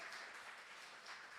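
A church congregation applauding during a sermon, a brief burst of dense, continuous clapping from many hands filling the room.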